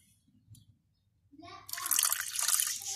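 Water poured from a tap or jug into a chicken marinade mixture with vinegar in a home kitchen, a bright splashing pour that starts after a quiet moment and a few soft clinks, with a voice speaking briefly.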